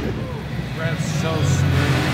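A Chevrolet Camaro ZL1 with a drag pack runs with a low, steady engine drone that swells slightly toward the end, under close talking.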